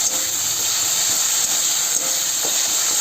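Tomato sizzling in hot oil in a pan, a steady bright hiss that runs evenly throughout, close and fairly loud, with no talking.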